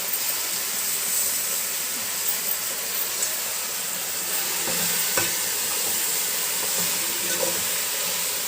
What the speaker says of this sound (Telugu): ఈ గోంగూరని ఇలాగా కొంచెం అలా కలుపుకుంటూ ఉంటే తొందరగానే మెత్తబడిపోయి దగ్గరకు అయిపోతుంది